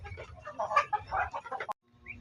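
Newly hatched chicks chirp and peep in a quick, busy cluster, close by, ending with a sharp click and near silence.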